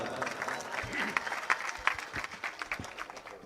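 An audience at a devotional kirtan gathering applauds with scattered, moderately loud claps, with a voice briefly audible among them.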